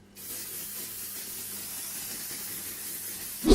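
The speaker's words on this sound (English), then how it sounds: "I'm going to grab that Kiko setting spray again, just one last time, and go for my life." A Kiko setting spray mist hisses steadily for about three seconds, close and fairly soft, with no voices.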